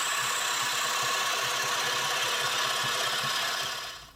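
A lathe turns a small wooden steering wheel for a toy road grader, giving off a steady, close whirring drone with a faint rhythmic flutter that holds evenly and then dies away at the very end.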